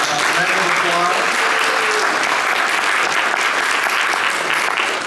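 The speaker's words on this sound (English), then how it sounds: "let's give Max a round of applause" Loud, dense round of applause from a Comic-Con 2023 panel audience in San Diego, celebrating animation pioneer Max Fleischer, steady and sustained throughout with faint voices mixed in.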